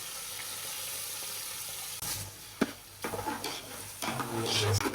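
Washed rice for Thalassery biryani fries in a hot pan, a steady sizzle broken by several clanks and scrapes of a spoon stirring against the metal, close and without talking.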